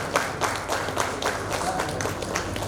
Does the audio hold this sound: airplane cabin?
no